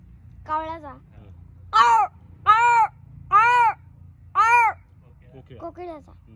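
A child mimics a crow with four loud, evenly spaced caws, bracketed by short bits of speech.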